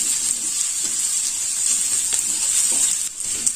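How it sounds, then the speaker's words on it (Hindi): Mini potatoes fry in hot oil, a steady bright sizzle throughout with occasional soft scrapes and clicks as they are stirred toward golden brown, close and continuous with no talking. "पटेटो को हम चलाते हुए गोल्डन ब्राउन होने देते हैं"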